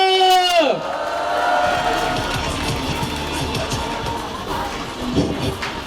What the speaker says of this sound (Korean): 박수 함성 부탁드리겠습니다